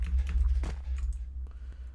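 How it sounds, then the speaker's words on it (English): Loud computer keyboard typing while playing the Roblox horror game Apeirophobia, a steady run of close clicking keystrokes over a low background hum. "Ignore my really loud keyboard."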